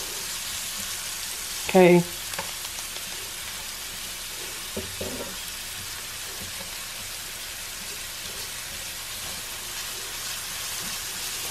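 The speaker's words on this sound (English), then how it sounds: "I'm going to go ahead and add a little onion and celery and a little carrot that was in there" Onion, celery and carrot sauté in a pan for a vegan pasta sauce, giving a soft, steady sizzle with a brief utensil clatter near the start and one short spoken word.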